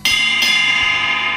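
An Armada V20 cymbal struck on its bell, two bright ringing hits a fraction of a second apart, close and loud with a long shimmering sustain.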